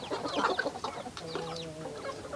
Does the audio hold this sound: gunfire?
no